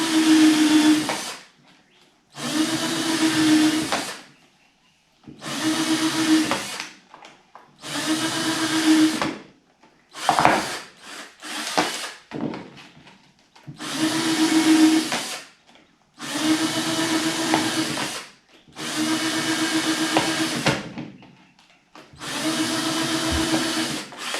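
A power tool drills holes into plastic mushroom trays, running in about nine separate loud bursts of two seconds each, with short pauses in between and no talking.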